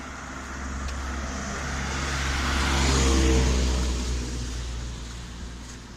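A car passes on a quiet small-town road in light traffic, its engine and tire noise swelling to a peak midway and fading away, steady and moderately near with no talking.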